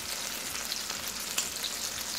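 Chicken breasts frying in a hot pan, a bright, dense hiss of sizzling fat with tiny crackles and spits, steady and close, with no voices.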